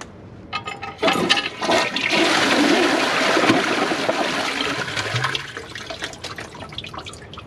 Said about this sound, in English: let's start out with a flush